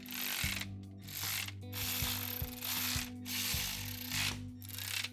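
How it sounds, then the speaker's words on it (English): Ratchet tightening bolts on the rear axle of a vehicle, given as an S60 rear, in a series of steady clicking strokes with brief pauses between pulls, close and clear with no talking. "Snug them down, then we'll torque them in a crisscross pattern"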